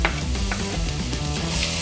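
Garlic cloves frying with golden onions in a pan give off a steady, close sizzle, with the occasional stir of a utensil running through it and no talking.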